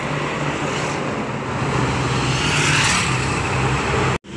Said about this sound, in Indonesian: Dominasi truk-truk besar ya